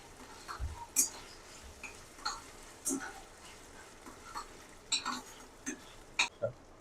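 Green chilli and capsicum being stirred in a pan, a scattered series of sharp clicks and scrapes of the spatula over a faint low frying hiss, fairly quiet.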